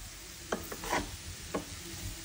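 Rice being stirred in a pan for a Turkish pilaf, cooked until the grains separate, with a few soft scraping strokes of the spoon against the pan over a quiet background.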